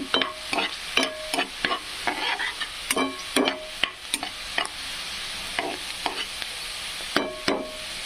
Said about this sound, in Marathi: छानपैकी असा कांदा लालसर होत आहे.